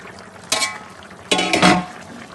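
Beef and aloe vera cooking in a pot are stirred in two scraping passes, a short one and then a longer one, with a soft bubbling sizzle underneath.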